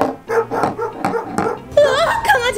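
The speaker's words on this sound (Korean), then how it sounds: "화난 강아지야?" An angry dog barks in short, loud bursts, then moves into whiny, growling vocalizations close by, with a person talking in between.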